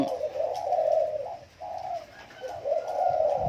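A wild-coloured spotted dove coos nearby in a soft, rolling, repeated phrase, loud and clear with only a brief break in the middle.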